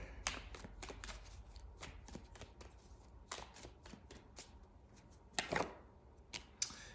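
Tarot cards shuffled by hand at close range, a run of crisp riffling flutters and soft taps in irregular bursts, with a few sharper card snaps near the end and no talking.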